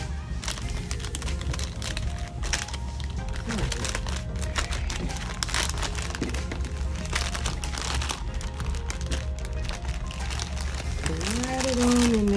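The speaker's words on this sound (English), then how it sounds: "Take the plastic bag that it came out of," Plastic bag with sticky material crinkles and rustles in irregular bursts close to the microphone while sublimation socks are prepped, with a person talking over it.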